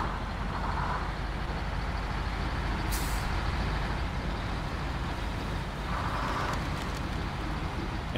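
A truck in the SnowRunner video game sits under a steady engine and road drone, with a sharp hiss of air brakes around the three-second mark and another fainter release near the end.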